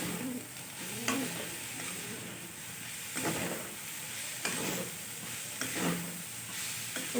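Vegetables are stirred and mixed in a hot pan, with a constant sizzle of frying under periodic scraping strokes of a spoon against the pan, roughly every second or so.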